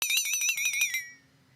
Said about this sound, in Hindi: अलार्म क्लॉक की घंटी उतनी ही बजनी चाहिए जितने में चीकू उठे।